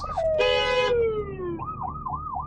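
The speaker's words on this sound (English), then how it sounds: "There's a big traffic jam and ambulances coming through" A wailing emergency siren sweeps downward in a long glide, then shifts into a faster rising-and-falling yelp, loud and close over low traffic rumble.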